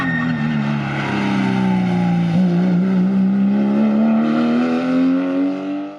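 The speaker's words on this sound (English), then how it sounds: "the car naturally comes into the perfect apex so I can get on the accelerator" A Porsche Cayenne GTS 4.8 V8 accelerates hard on a track, a loud, close engine note climbing steadily in pitch through one long pull before easing off at the end.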